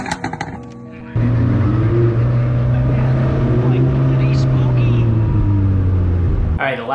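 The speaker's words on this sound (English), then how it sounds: "my Huracan has the factory race exhaust, so that sounds incredible" A Lamborghini Huracan with a factory race exhaust drones loudly and steadily close by for several seconds, its engine note rising and falling slightly, after a brief burst of mixed noise at the start.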